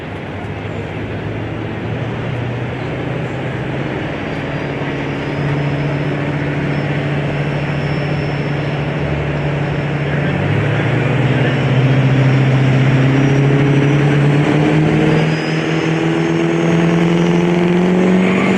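A diesel pickup truck roars loudly under full throttle on a dyno at a truck pulling and performance competition event, engine pitch steadily climbing over about eighteen seconds with a faint PA voice underneath.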